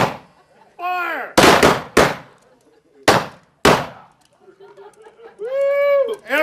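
Shotgun volleys fired by a group at a wedding, several loud, sharp blasts in quick succession, close and booming, with shouted voices between the shots.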